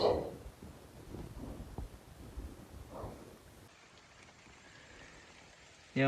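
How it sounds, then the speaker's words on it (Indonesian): Heavy rain pours steadily over an outdoor fishing spot for snakehead, a broad, dense hiss that slackens partway through, with brief voice-like bursts early on. "hujannya makin gede-gede"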